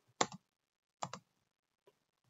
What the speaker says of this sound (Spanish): es esta tecla de Tab la que les da la tabulación